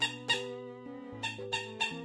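Blackpink's official light stick squeaks in a short series of bright, tonal squeals that step up and down in pitch, each opening with a sharp onset. The squeaks are close and fairly quiet, with no talking.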